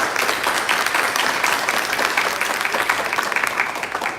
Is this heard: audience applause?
yes